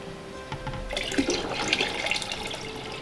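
Mixed solution poured into a 5 gallon bucket, a close, steady splashing gush of liquid that starts after a quiet moment and keeps running to the end, with no talking.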